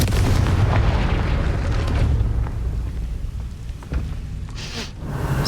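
A Confringo fire spell explosion from Hogwarts Legacy rumbles as a heavy low boom that fades into crackling, with a sharper pop partway and another burst at the end, loud and near, no voices.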